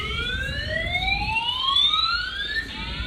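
A building fire alarm sounds during a hot yoga class, its loud, piercing tone sweeping upward in repeated rising wails over a low room rumble.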